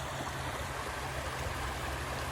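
A creek flowing at night, with a steady, close rush and burble of running water filling the whole moment evenly, without voices.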